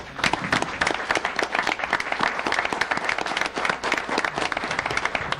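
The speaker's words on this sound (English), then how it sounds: "you guys applauded real good for that" An audience at a city council meeting applauds, with sustained dense clapping that holds steady and fairly loud for several seconds, no talk over it.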